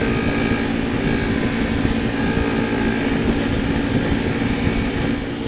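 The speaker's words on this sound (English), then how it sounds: "the hard felt buffing wheel in action, and that's the one we're going to start with for the chip breaker" A hard felt buffing wheel spins steadily against a hand plane chip breaker, the edge rolled back and forth, giving a continuous loud whirring drone with a dense low rumble and no pauses.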